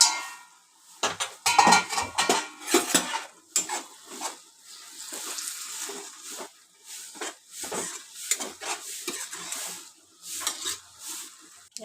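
Garlic chili powder and greens stirred in a cooking pot, with repeated scraping and clinking of a utensil against metal in irregular bursts, close by and alone without talk.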